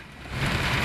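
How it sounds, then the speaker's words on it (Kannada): Heavy rain pours down over Bengaluru, including the Jayanagar area, a dense, steady hiss of drops on surfaces that swells louder midway and continues without any voices. "ಜಯನಗರ ಸೇರಿದಂತೆ ಹಲವು ಕಡೆ ಮಳೆಯ ಆರ್ಭಟ ಜೋರಾಗಿದೆ"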